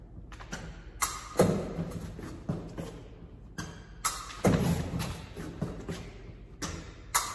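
Fencing blade tips striking a target during slow practice lunges in a club drill, a series of sharp taps and thuds spaced irregularly, each followed by footwork shuffle, close and moderately loud.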